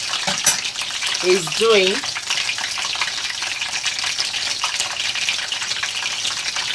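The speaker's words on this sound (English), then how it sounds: "the rest are still frying" Steady crackling sizzle of chicken dippers frying in hot oil throughout, with a brief voice speaking near the start.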